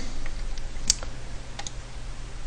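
A computer mouse clicks on a map icon on a property-search website, with one sharp close click followed by a couple of fainter clicks over a low steady hum.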